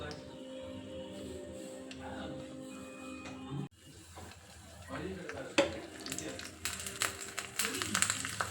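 Hot oil crackles as tempering is added for a radish sambar made in a pressure cooker, with the sizzle and stirring growing busier and louder toward the end after an earlier quieter kitchen stretch.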